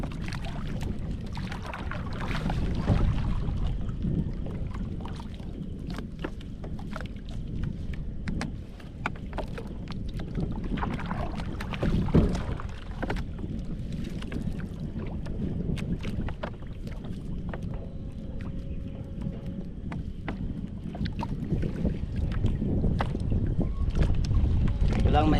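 Strong wind buffets the microphone in a constant low roar, with water sloshing and occasional knocks from a small boat underneath, out fishing at sea.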